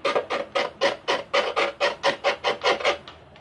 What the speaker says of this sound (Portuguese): E aí, olha, com uma lixa de unha,